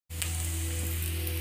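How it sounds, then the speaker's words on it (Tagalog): Garlic and onion hit hot oil in a pan, bursting into a loud, steady sizzle that holds evenly throughout. "Nilalagay na natin yung garlic. Tapos lagay na natin yung sibuyas."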